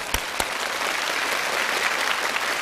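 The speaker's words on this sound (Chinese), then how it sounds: "再次把掌声送给三位。" An audience applauds three jump-rope contestants on a TV challenge show stage, with steady, dense clapping throughout and a couple of sharper claps standing out near the start.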